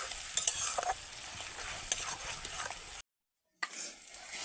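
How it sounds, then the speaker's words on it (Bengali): Spice paste stir-fried on low heat, a soft sizzle with scraping stir strokes, broken briefly by a short silent gap before the sizzling resumes. "এটা হালকা আঁচে কষাতে হবে"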